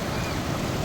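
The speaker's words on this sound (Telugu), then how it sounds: "వాటర్ ఫ్లో బాగుంది" Strong river water flow makes a loud, continuous rushing roar, dense and unbroken for a brief moment, with no voices over it.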